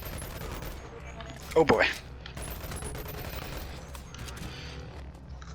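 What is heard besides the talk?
SMG gunfire in Boneworks video game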